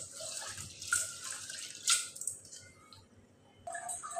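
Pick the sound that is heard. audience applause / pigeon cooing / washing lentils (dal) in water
washing lentils (dal) in water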